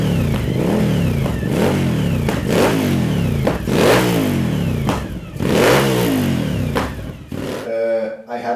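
A Suzuki SV1000 motorcycle engine revs repeatedly through a shortened exhaust, rising and falling in loud, raspy bursts, close by, ending with a sputtering idle.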